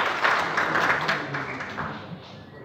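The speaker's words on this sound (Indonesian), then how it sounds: "Tepuk tangan untuk semua." Applause at a regional government assembly in Cilacap, a short crowd clapping burst that is strongest at first and then gradually fades away.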